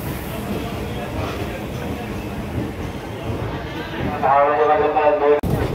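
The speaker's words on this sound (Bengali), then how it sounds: "এখন কিন্তু ট্রেনের স্পিডটা বেড়েছে" Aboard the Kolkata to Digha special train 03161, a steady rumble of the moving carriage picking up speed carries on, with a sharper rhythmic rattle near the end and people talking over it.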